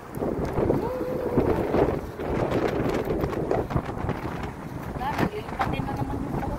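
Strong wind blows steadily across an outdoor spot with dust in the air, a broadband rushing roar buffeting the microphone throughout, with voices talking over it.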